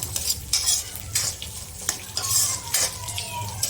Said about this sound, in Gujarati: ધીમો એકદમ ગેસ રાખીને શેકવાની છે